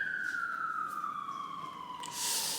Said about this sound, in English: Let's wait for this police car because we're in central London.